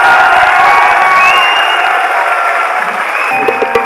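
Loud, dense applause and cheering from a large audience at an RCM Business gathering, steady throughout and easing slightly toward the end, with shouts and whoops mixed into the crowd noise.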